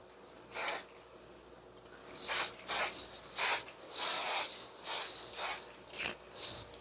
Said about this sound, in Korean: 이제 스프레이를 뿌려서 우리가 고정을 해야겠죠